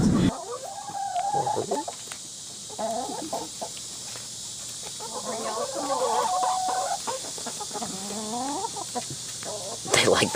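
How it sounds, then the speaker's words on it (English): Chickens on a farm property in Florida cluck and chatter, with soft, irregular bursts of clucking and squawks close by over a quiet background. "and maybe I'll show you the chickens."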